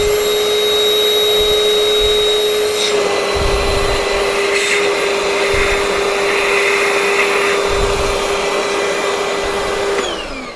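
A Turin DF54 coffee grinder runs steadily and loudly for about ten seconds, a sustained whine with a constant pitch, then stops near the end.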